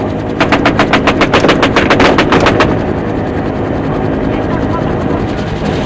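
A military helicopter lifts off with its rotor chopping loudly as rapid bursts of returned gunfire crack out over it early on, and the roaring engine carries on steadily afterward.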